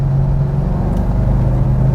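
A 2007 Bentley Azure in manual mode, downshifting through the gears. Its engine holds a steady, loud, deep drone close up, with no voices over it.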